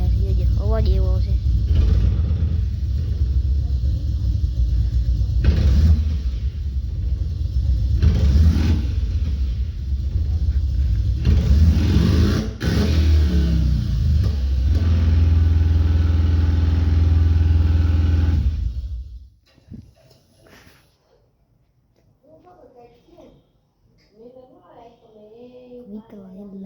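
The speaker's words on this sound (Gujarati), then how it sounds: "હવે હે ને આ બુલેટને આપણે થોડુંક વધારે જોજો અવાજ એવો આવશે" A Bullet motorcycle engine revs hard in repeated deep, loud surges over a steady heavy rumble, then cuts out, leaving near silence and a few faint voices.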